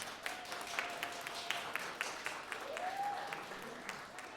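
Steady applause from an audience at a high school band spring concert, a dense patter of clapping that holds at an even level throughout.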